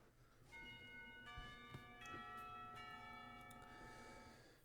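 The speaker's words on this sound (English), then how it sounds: "The bells ring for lunch break," School bells in the Katawa Shoujo visual novel ring for lunch, several overlapping bell tones struck in succession and sustaining with a long ringing decay, moderately quiet over a soft background hiss.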